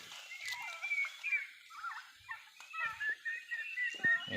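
Turkeys gobble repeatedly in rapid, warbling bursts, fairly close, with several birds calling over one another and no talking.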